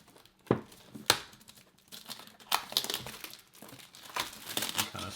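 Plastic wrap being peeled off a bamboo tea box crinkles and tears in loud, irregular bursts, close up with no talking.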